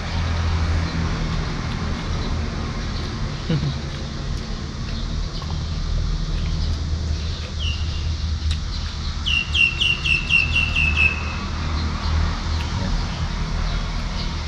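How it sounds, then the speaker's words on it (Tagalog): Several birds chirp outdoors in a bright, repeated series of short tweets, fairly faint and partly distant, set against a constant low rumble of road traffic, with a few scattered calls before a clearer burst of rapid chirps. "Daming ibon ngayon, no?"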